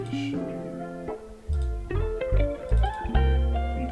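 A voice vocoded with a triangle tone and a wah effect, normalized to avoid clipping: buzzy, pitched synthetic syllables with sweeping tone changes, loud and continuous, heard alone for a few seconds.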